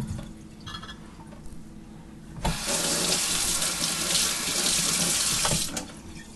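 A kitchen tap gushes into a sink, starting abruptly after a quiet moment and running steadily for a few seconds before cutting off, close and fairly loud.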